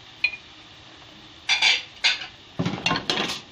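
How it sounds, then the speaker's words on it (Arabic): Chicken and spinach being stirred in a cooking pot, a spoon clinking and scraping against the metal in a few short bursts, close by, with no talking. "وقلبهم في بعض كويس قوي"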